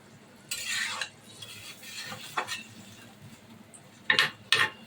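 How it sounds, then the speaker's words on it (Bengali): A spoon stirs head-meat curry in a kadai with added water, giving a few spaced scraping strokes over a low simmering sizzle, with two sharp clinks of metal near the end. "এখন আমরা 5 থেকে 10 মিনিট পর গোশটা একটু লাড়াচাড়া করা হইতেছে, যাতে ভালোভাবে সিদ্ধ হয়"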